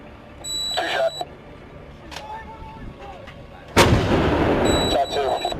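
An artillery gun fires a single heavy shot, a sudden loud boom with a long rumbling tail, preceded by quieter clanks and beeps of a crew at work.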